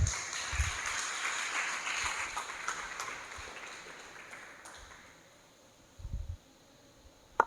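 A church congregation claps and applauds at the close of an intercession prayer service, a broad wash of hand claps that swells early and gradually fades, with a few sharper claps near the end.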